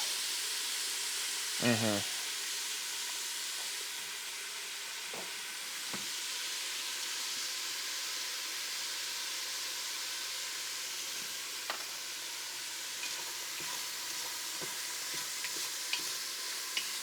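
Food coated in Cajun seasoning fries in a single pot with a constant steady sizzle, broken by occasional spoon scrapes and stirring clatter, with a brief low voice early on.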